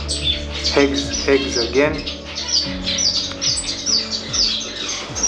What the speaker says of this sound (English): I have a pair of cutthroat finch.